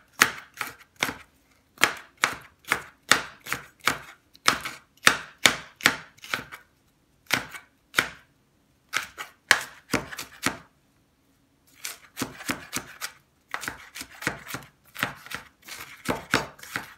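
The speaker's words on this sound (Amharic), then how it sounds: "ቃሪያውን ደግሞ ከትፋለሁ።" A knife chops chili peppers for a spicy cucumber salad, striking the cutting board in quick, steady bursts of crisp close-up taps separated by short pauses, with no voices.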